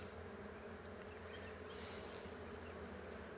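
A swarm of Russian honey bees hums in a dense, steady drone that fills the whole stretch, close and continuous with no voices.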